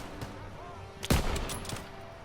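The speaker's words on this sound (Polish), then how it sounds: "O tak stąd mam dobrą pozycję na ostrzelanie tamtych panów." Gunfire in the World War II shooter Call of Duty WWII: a few sharp shots crack against a low battlefield background, the loudest a close blast just after one second followed by a fainter report.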